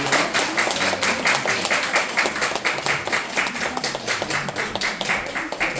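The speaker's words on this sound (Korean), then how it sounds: "우리 시우에게 박수로 한번 격려." Church congregation at a Sunday service claps to encourage a first-grade child receiving a gift, a steady, moderately loud round of many hands with rhythmic peaks throughout.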